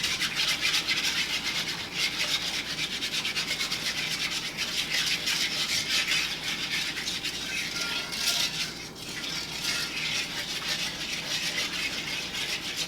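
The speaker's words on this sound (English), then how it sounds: "You can also use a whisk to kind of get in there and really break up all the flour in the" A whisk scrapes and rattles briskly and continuously through flour in chocolate gravy in a pan, a close, steady scratchy patter with no talking.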